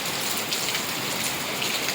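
Heavy evening downpour in a village in Gadhada, Botad, with a dense, continuous hiss of rain pounding surfaces close by, steady and loud throughout with no voices.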